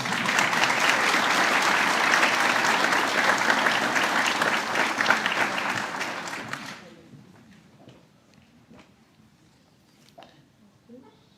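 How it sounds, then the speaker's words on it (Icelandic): An audience at an agricultural university graduation claps for a graduate, a dense, loud round of applause lasting about seven seconds before it quickly dies away to a few scattered claps and room quiet. "Og þið megið gjarnan klappa fyrir henni."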